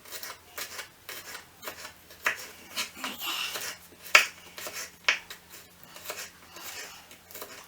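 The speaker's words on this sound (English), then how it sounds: "And cloves, I usually go halfway down and just chop it up finely" Garlic cloves are chopped finely on a board with a knife: a run of quick scraping, rasping cuts with a few sharper knocks, close up and steady for several seconds.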